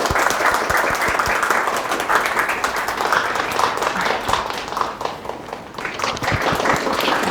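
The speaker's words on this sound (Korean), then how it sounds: "큰 박수로 맞이해 주시길 바랍니다" A university talk-concert audience in a hall gives steady, dense applause to welcome a professor, a full crowd clapping continuously for about seven seconds and tapering slightly near the end.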